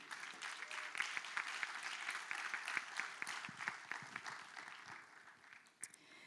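Dense, steady audience applause fills a hall at a forum's opening conference as a speaker is welcomed, with clapping that continues and begins to thin toward the end.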